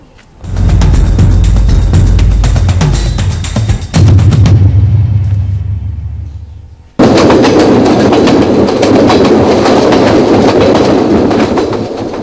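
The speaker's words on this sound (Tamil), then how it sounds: "யாழ்தேவி ரயில் இன்று கிளிநொச்சி வரையில் தனது பயணத்தை ஆரம்பித்தது" The Yal Devi train runs on rails toward Kilinochchi, Sri Lanka, making a loud, close rumble with rhythmic wheel clatter. The sound fades briefly, then cuts to another stretch of loud, continuous rolling noise.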